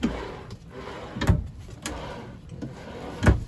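Drawers in a 2021 RPOD 190 camper trailer slide and knock shut, with several sharp wooden thumps spaced irregularly across a few seconds against a quiet room.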